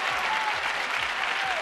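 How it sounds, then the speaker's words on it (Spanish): Studio audience at a 1996 television game show breaks into sustained, even applause, a dense wash of many hands clapping throughout with no break. "Sí, un aplauso."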